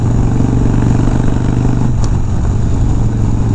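An FXR motorcycle engine revs hard and close, a loud continuous throaty roar that shifts pitch partway through, with no talking over it.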